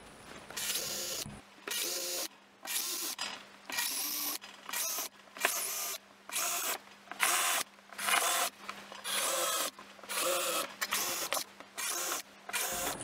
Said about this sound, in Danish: hvorfor jeg står og borer hernede i pladen her